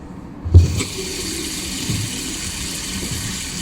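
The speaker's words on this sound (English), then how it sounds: "I'm going to go ahead and wash my hair" Tap water runs steadily into a sink as someone gets ready to wash their hair, starting with a short burst and then settling into a continuous, moderately close flow with no talking.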